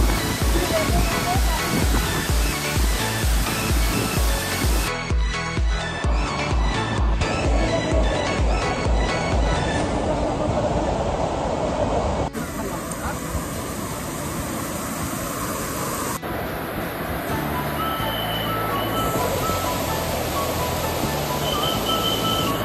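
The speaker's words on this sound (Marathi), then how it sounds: "पाहू शकताय खूप मोठा धबधबा आहे इकडे." A loud, continuous roar of a large waterfall in the Andarban jungle, a steady rushing wash of water that fills the scene from start to finish.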